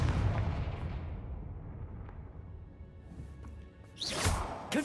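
A Confringo fire spell blast from Hogwarts Legacy on PS5 goes off as a loud whooshing burst near the end, over a low rumbling game soundscape with scattered pops.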